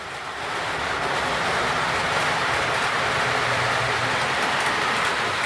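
A small model F9 diesel locomotive runs steadily, giving a continuous whirring rumble that builds in the first half second and then holds, no talking.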